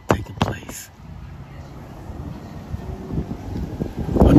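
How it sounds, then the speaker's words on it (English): Outdoor wind gusts buffet the microphone with low rumbling noise that builds toward the end, while someone speaks briefly at the start. "the wind gust rushes into my mouth as I talk"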